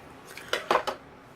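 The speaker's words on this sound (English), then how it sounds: "Cut that a little too" Scissors snip paper while a handmade card with a pocket is made, giving three quick crisp cuts close up in a brief burst, with no talking.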